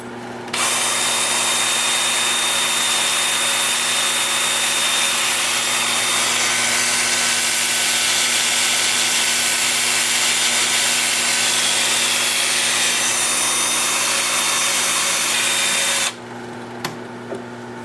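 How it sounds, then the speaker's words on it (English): Continuous whirring hum of a wood lathe spinning in reverse at 350 with an abrasive rubbing hiss of 150-grit sanding on a hollow form, loud and steady for about fifteen seconds before stopping. "I've got the lathe spinning in reverse at 350"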